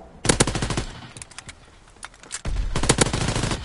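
Automatic gunfire in a Call of Duty WW2 match, two loud rapid bursts with scattered single shots between them, close and dominant.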